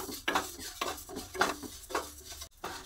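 Fried moong dal being stirred with mustard oil in a pan, a spoon scraping and clinking against the metal in several uneven strokes, close and fairly quiet, with little sizzle.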